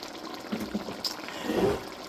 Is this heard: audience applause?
no